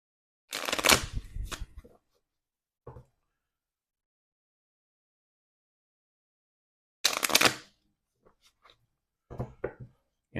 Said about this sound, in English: So let me give this a quick shuffle here.